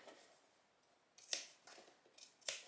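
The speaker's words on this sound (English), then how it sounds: "I'm going to put a couple of small little snips here as we go around the corner." Sewing scissors make a few small, quiet snips into fabric around a corner while making a caravan cover. Two or three crisp cuts come close together after a near-silent start, and nobody speaks.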